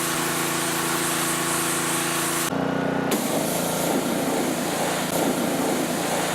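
A Troybilt pressure washer fitted with a delicate tip sprays water in a close, loud, steady hiss that breaks off for about half a second before resuming, used to rinse dirt and mold off a surface.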